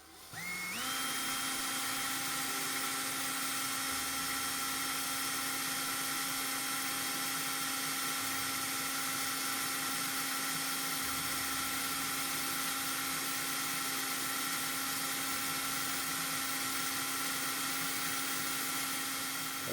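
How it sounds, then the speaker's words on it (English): A small power drill with a 1.4 mm bit boring down the center of a die-cast Lesney van post, a steady high-pitched motor whine that spins up quickly and holds constant for a long stretch, close and alone. "let's drill down the center of the post"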